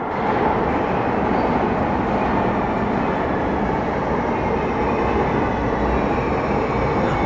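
A steady, loud rumble of a San Francisco Muni single-car N light rail train rolling along the tracks, with continuous wheel and motor noise and no clear pauses.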